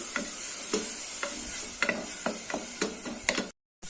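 Curry leaves and slit green chillies sautéed in a pan for chicken pepper rasam: a steady sizzle broken by repeated scraping stir strokes at a regular pace, close up, cutting to silence at the end.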